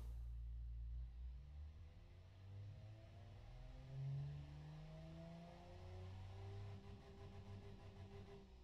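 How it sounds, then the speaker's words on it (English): A low-revving, quiet city car engine from the car-building game Automation hums at a deep, smooth pitch, rising slowly in a gentle rev and then settling back. It is heard alone, with no talk over it. "it's a really low revving engine, for one thing, but that makes it quiet"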